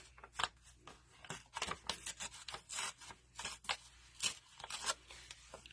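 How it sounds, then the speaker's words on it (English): Thick paper torn by hand into a plain tag, a series of short rough ripping bursts in an uneven rhythm, close and fairly quiet with no talk. "Because the paper's thicker, it's a little harder to tear"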